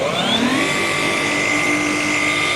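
A brushless-motor machine polisher from Halfords runs steadily and close up, its smooth whine rising in pitch as it spins up, then holding an even, continuous tone.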